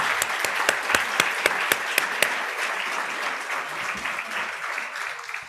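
A crowd applauding steadily, dense clapping at even loudness throughout with a few sharper individual claps standing out early, fading slightly near the end.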